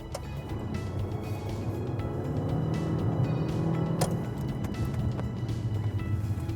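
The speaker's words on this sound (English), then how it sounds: "And then I'm gonna take my cameraman for a ride here, old Brian." A van fitted with electronic accelerator and mechanical brake hand controls drives along, heard from inside as a steady engine and road rumble with occasional rattles and a faint knock, with no talking.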